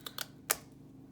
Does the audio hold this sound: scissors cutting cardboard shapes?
yes